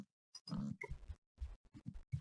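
Several short pig oinks and grunts from a Minecraft pig, close and moderately loud, spaced in a broken rhythm with brief silences.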